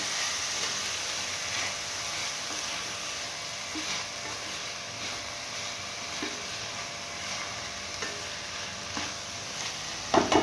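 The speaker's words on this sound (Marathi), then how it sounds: "एकदा व्यवस्थित हलवून घेऊया" Whole masoor lentils cooked village style, stirred in a hot pan: a steady close sizzle and hiss of frying throughout, with faint scraping of the spoon and a few louder knocks at the very end.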